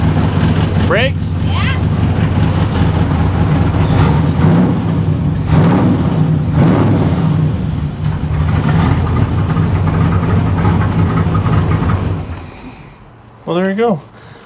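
A 1957 Chevy hardtop engine runs steadily and loudly nearby with a low rumbling drone, then cuts out near the end; voices talk briefly over it.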